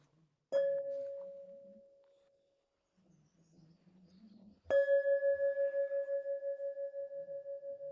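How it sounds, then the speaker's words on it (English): A meditation bell rings out twice at a Buddhist dharma talk. Each clear, sustained tone fades slowly, and the second strike rings on with a gentle pulsing shimmer, with no talking. "Terry, may we have a bell and then I'll just finish off."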